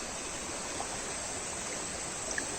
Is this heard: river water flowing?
yes